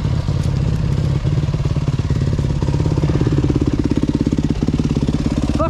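A four-stroke motorbike engine revs loudly and continuously at close range on a muddy ride, its steady rapid firing pulses filling the whole stretch with a rough, knocking throb.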